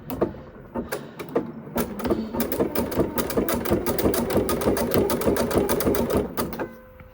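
Sewing machine stitching satin trim onto a fleece blanket, a rapid rhythmic mechanical chatter that starts in short bursts, then runs steadily for several seconds before stopping, close and clear.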